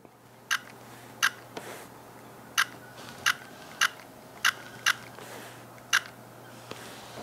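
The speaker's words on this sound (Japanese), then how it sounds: "音の方も静かなオートフォーカスを採用してましてリニアモーター式ですね" A series of short, sharp mechanical clicks from the linear-motor autofocus of a Tamron 50-400mm F/4.5-6.3 Di III VC VXD camera lens, roughly nine at irregular intervals over a low steady hum, each crisp and close.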